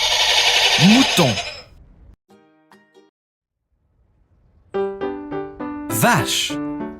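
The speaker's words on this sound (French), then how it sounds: "Mouton." Sheep bleating in a farm-animal setting, a few short wavering calls, close and fairly loud, split by a quiet gap in the middle, with a voice briefly heard nearby.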